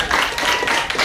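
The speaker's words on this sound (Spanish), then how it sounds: "Un aplauso aquí para Mayra." A group claps in applause for Mayra, a short burst of dense, close hand claps filling the brief moment.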